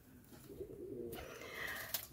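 A crow in an aviary gives soft, low cooing calls close by, followed by a brief brighter squeak, all fairly quiet.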